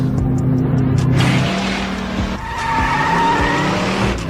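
A car skids with a long, loud tire squeal, then revs and screeches again, the engine whine rising close and prominent.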